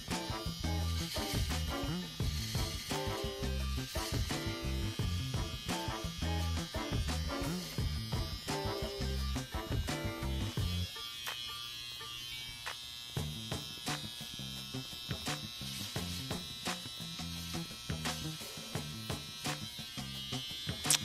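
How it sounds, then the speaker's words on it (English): An electric beard trimmer buzzes loudly and close as it shaves neck hair below the beard line, a steady electric drone that shifts in tone as the blades press against the skin. "I'm just going to use the trimmer now in its natural position to shave down the hairs that are growing from my neck below the baseline"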